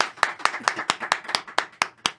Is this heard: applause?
yes